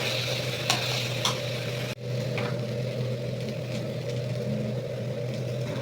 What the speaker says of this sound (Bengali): আবার এই চুলায় হচ্ছে আমি চালটা ভেজে নিব।